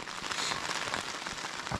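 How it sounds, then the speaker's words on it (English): Heavy rain pounds steadily on campers and their tents at a lakeside overnight camp, a dense continuous patter with scattered louder drops and no talk. "Just started pounding the rain on us."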